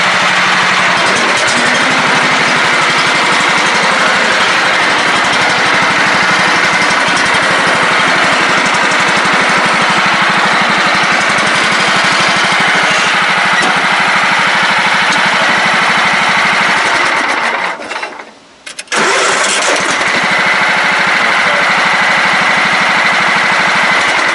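A Craftsman LT 1000 lawn tractor engine runs steadily at a loud, even drone, cutting out abruptly for about a second near the end before resuming its constant hum.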